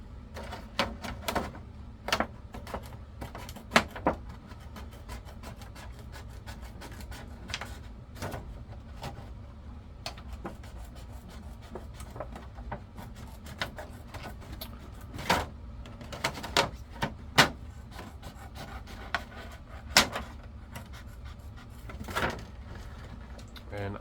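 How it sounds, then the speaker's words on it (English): Sharp, irregular snips and clicks of a polycarbonate RC touring car body being cut out along its mold line, scattered close-up cuts over a steady low background hum with no voices. "So first thing I do is I cut the body out on the mold line here."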